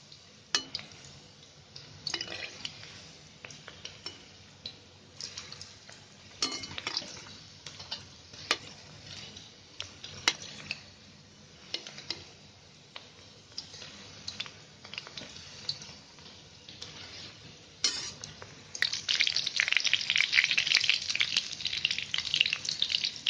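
Chicken kofta balls frying in oil in a pan, a crackling sizzle with scattered pops and utensil clinks, growing into a louder, denser sizzle toward the end.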